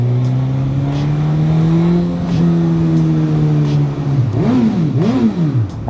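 A Suzuki GSX-S1000GX motorcycle engine pulls loud and close in a long rising drone, then shifts and revs in a couple of quick swells near the end, with no voices.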